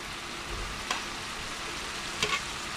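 Oil sizzling steadily in a pan as garlic goes in for a pomfret fish curry, a soft continuous frying hiss with two brief sharper crackles or clinks, fairly quiet and close.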